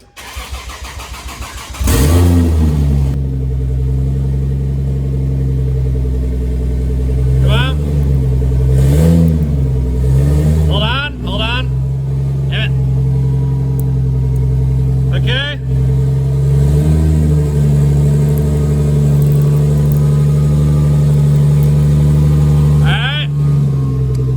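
A turbocharged Lexus IS300 idles with a steady, close engine drone while it rolls slowly forward and back in a garage, with a few short knocks and faint voices over the hum.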